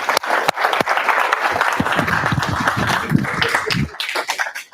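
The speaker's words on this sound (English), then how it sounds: "So let's give him a round of applause for that." An audience at an OWASP Ottawa tech meetup gives a brisk round of applause for a speaker, with dense close clapping that thins out near the end.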